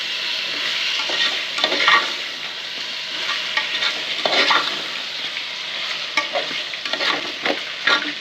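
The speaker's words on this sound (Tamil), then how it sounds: "இப்போ தேவையான அளவுக்கு சால்ட் போட்டுக்கலாம். எல்லாத்தையும் நல்லா வதக்கணும்." Meat sautéing in a pan with salt and masala, a dense continuous sizzle with bursts of louder crackle as a spoon stirs and scrapes through the mixture, close-up and without speech.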